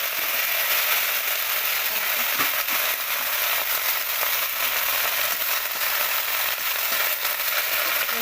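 Mustard flowers and chillies fry in hot mustard oil in a wok, giving a loud, steady, dense sizzle and crackle that runs unbroken throughout, with no talking.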